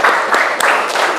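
A classroom of students applauds briefly, a short burst of many hands clapping at close range, fairly loud and dense, lasting just over a second.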